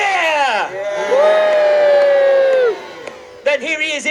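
Crowd at a medieval jousting tournament at Warwick Castle loudly cheers, boos and whoops for a knight; a sustained roar swells, holds, then drops off before a second short burst of shouting.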